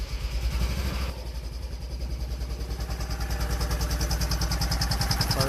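A small engine, probably a motorcycle or similar gravity-fed machine out of gear, turns over and catches about a second in, then settles into a steady, loud, close idle that continues on its own.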